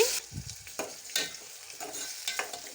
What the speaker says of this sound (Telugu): కాసేపు ఫ్రై అయ్యాక ఇప్పుడు గ్రైండ్ చేసి పెట్టుకున్న టమాటా పేస్ట్ని కూడా వేసి